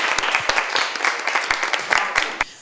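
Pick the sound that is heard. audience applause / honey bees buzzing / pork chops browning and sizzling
audience applause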